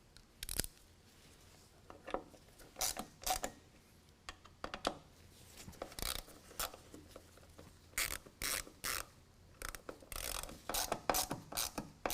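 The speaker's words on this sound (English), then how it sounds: "tighten them down with a T25 Torx bit" A ratchet drives screws with a T25 Torx bit while LED tail lights are fitted on a 2019 Ram 1500, producing fairly faint, close runs of rapid clicking in short bursts, with no talk.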